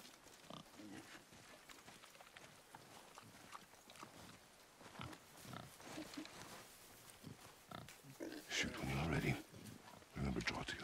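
A boar in the video game God of War grunts and snorts repeatedly at close range while people talk over it, the grunting growing louder toward the end.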